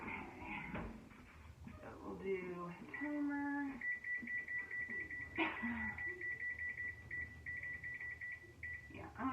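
A kitchen timer is set during home baking: short electronic beeps from button presses, then a sustained high tone that holds for several seconds before stopping, with a person talking nearby and kitchen handling noises around it.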